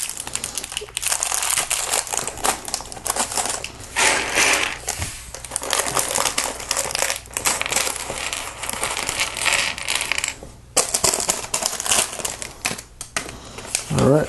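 Plastic bag of Lego parts from the DC Universe Batcave set 6860 being handled, loud close crinkling and rustling in irregular bursts, with small pieces rattling and clicking inside, continuing throughout.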